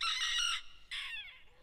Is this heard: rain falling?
no